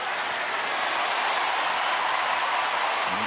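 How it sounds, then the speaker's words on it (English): Baseball stadium crowd in Texas reacting to a 2-0 pitch from Nathan, a steady broad roar of cheering and applause that holds evenly throughout, dense and loud with no single voices standing out. "you can tell by the reaction of the crowd what the result of that pitch was"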